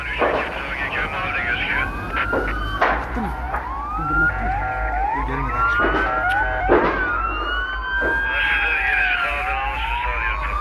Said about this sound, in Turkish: Evet itfaiye ve polis ekipleri birbiri ardına olay yerine geliyorlar.